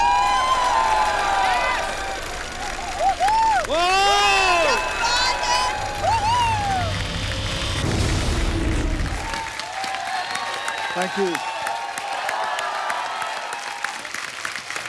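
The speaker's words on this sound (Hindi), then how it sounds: "जोरदार तालियां अक्षय बाजी के लिए।" A studio audience on a Hindi comedy show breaks into loud, sustained applause and cheering, with a host's voice calling out over it and brief talk as the clapping fades.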